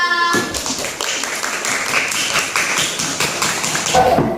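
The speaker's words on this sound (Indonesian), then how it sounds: "Tepuk tangan untuk kelompok 3" A school science class applauds a student group, dense rapid hand clapping filling the room for several seconds, close and fairly loud, with no talk over it.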